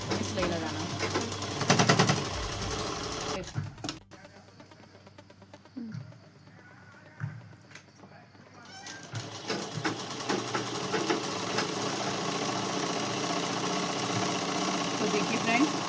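Sewing machine stitching the folded waistband casing of a shalwar, a steady mechanical whirr running through most of the stretch, pausing briefly in the middle before resuming, with a voice talking over it.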